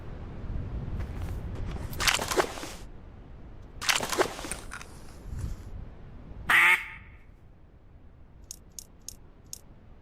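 Ducks quack in a duck hunting video game at a castle duck blind: a loud burst of quacking near the middle, then a short run of small clicks, with gusts of wind and soft ambience around it.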